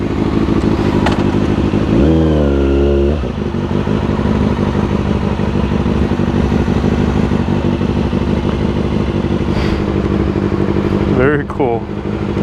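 Mercedes SL65 AMG with a twin-turbo V12 engine revving, a loud close engine drone with a sharp rising rev early on and another near the end, with voices talking over it.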